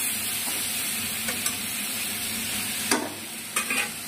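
Ridge gourd and potato sautéing in a pan sizzle steadily and close by, with a few short scraping strokes from a spatula stirring the vegetables; no one speaks.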